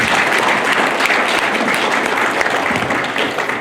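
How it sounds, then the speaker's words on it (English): A big round of applause for the mayor at a patriotic welcome ceremony for a returning hero in Luta: loud, dense crowd clapping that continues unbroken throughout. "Ladies and gentlemen, let's thank our great mayor again. A big round of applause, please."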